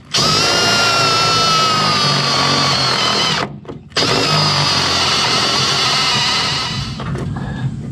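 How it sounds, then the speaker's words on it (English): A step drill bores a hole, a loud steady whine with a brief pause near the middle before cutting resumes and trails off at the end. "Let's have a go with the step drill."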